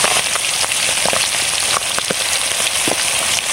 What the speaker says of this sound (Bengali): আমরা শেষ লোটে মাছ আমরা ভেজে নিয়েছি।